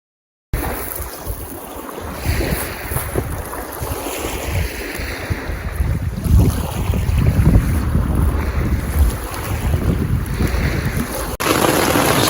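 Wind gusting at a riverside camp along the Mackenzie River, buffeting the microphone in uneven surges that swell and ease with a low rumble underneath.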